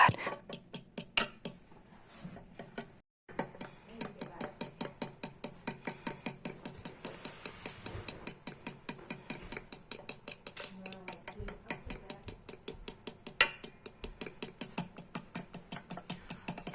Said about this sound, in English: whisking, as you can see here